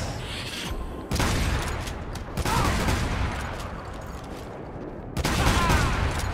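Charged gun blasts in Devil May Cry 5, heavy bursts of gunfire and booming impacts arriving in sections, loud and dense with game effects layered over a low rumble.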